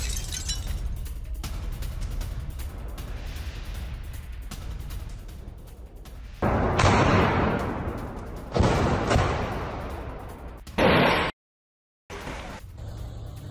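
Explosions and blasts in the Rafah area during an Israeli military attack, heard as rumbling booms and loud bursts of noise with sharp surges and a brief dropout, no voices.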